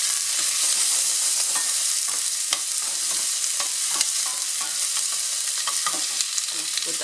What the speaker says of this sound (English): we're going to saute the garlic in there.